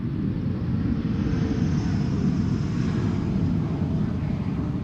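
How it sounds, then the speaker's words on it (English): An Embraer E195-E2 airliner lands at Amsterdam Schiphol with its thrust reversers engaged, a steady, loud broadband engine roar that holds throughout without breaks. "E2 Embraer 195. Using the reversers."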